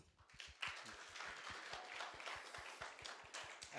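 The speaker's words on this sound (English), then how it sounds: "A round of applause for that." Scattered applause from a student audience of about fifty at a datathon presentation session, a steady patter of claps through the whole stretch at moderate level with no talking.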